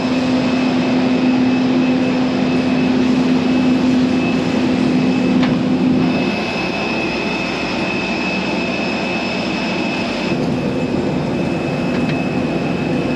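Steady airliner cabin drone as passengers board a plane for Tunisia, a loud continuous hum with a sustained tone that fades partway through, no talking.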